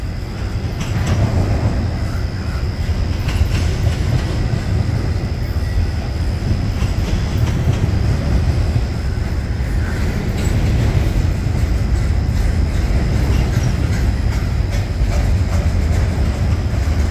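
Union Pacific intermodal freight train rumbling steadily over a rail diamond crossing, with continuous loud wheel noise, rhythmic clicks and faint high wheel squeal throughout, no voices.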